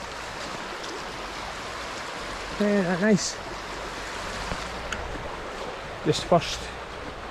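A steady rushing flow from a river runs beside a walking trail, constant broadband water noise throughout, while a person says a few words briefly over it.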